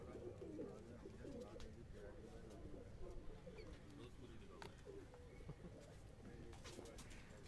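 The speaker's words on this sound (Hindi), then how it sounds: "और ये कुछ कबूतर जो हैं इन्होंने यहाँ पे रोके हुए हैं" Pigeons in a rooftop loft coo softly and steadily in the background, with continuous low murmuring and someone talking over them throughout.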